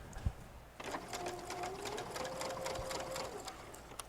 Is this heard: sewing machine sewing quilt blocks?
yes